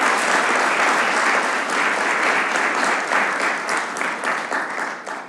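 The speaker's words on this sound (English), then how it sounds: "can we give all the panelists another round of applause?" An audience at an accounting forum applauds its panelists steadily and loudly for several seconds, the clapping dense and continuous before tapering slightly at the end.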